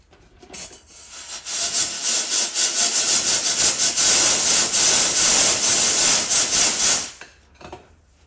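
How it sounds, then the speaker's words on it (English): Compressed air blows through an oil line on a 1972 Kawasaki H1-B 500 motorcycle: a loud, close, steady hiss that lasts about six seconds, then cuts off sharply into quiet. "I'm going to blow a little bit of compressed air, and the oil should come out of that line."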